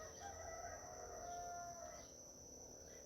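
A rooster crows faintly in the distance, one drawn-out call fading into a quiet background hiss.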